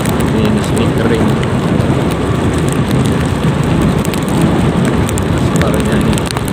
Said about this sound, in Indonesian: Ini udah mulai rintik-rintik.